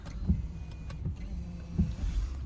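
Electric wing mirrors on a Honda Civic 1.0 VTEC Turbo EX hatchback power-folding inside the car, a few soft motor whirs and clunks, close and quiet, with no talking.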